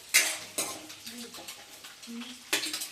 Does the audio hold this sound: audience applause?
no